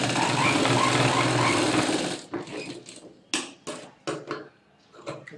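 A sewing machine stitches a blouse, running in a steady, dense whir for about two seconds, then stopping and starting in short, separate bursts.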